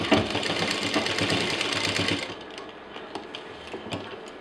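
A sewing machine stitches elastic for a handmade holder, whirring in a fast, even rattle for about two seconds before stopping, followed by faint handling clicks.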